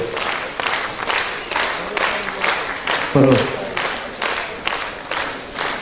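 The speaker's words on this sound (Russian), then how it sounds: "Мы хотим слышать овации" An audience at an Azerbaijan Independence Day stage event claps in steady rhythmic unison, a loud regular beat of crowd applause, while a voice briefly speaks over it.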